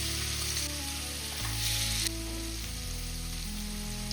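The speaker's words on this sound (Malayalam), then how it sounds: "പിന്നെ ഞാൻ മാന്ത കുറച്ചെടുത്ത് പൊരിക്കാൻ വേണ്ടി എടുത്തിട്ടുണ്ട്" Pomfret pieces coated with turmeric, chilli, salt and crushed garlic fry in oil on a gas stove, with a constant close sizzle beneath background music.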